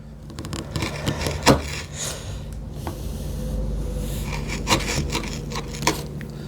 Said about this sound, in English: I could go and touch up or like sharpen this chisel